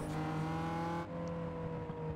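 A car engine in the video game Need for Speed: Underground 2 drones at a steady low pitch, then cuts and shifts to a rougher idle; no speech.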